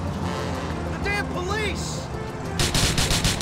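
Bursts of gunfire from the video game GTA 4 erupt near the end in a rapid volley of sharp cracks, following engine and tyre-screech sounds of a car chase.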